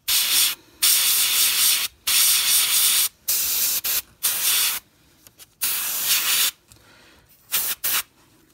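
A Sparmax airbrush fitted with a 0.3 mm needle sprays paint in short hissing bursts, each lasting a second or so and separated by brief silences, close and fairly loud with no voices.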